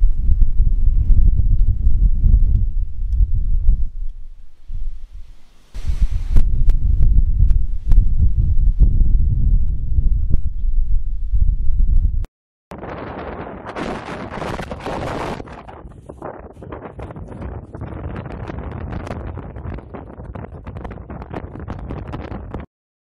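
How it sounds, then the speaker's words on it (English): Strong wind gusts batter a microphone in a winter garden, roaring and buffeting loudly in continuous waves, with a sharp cut partway through to a harsher, hissing blast of wind. "we do get some very windy weather in this area"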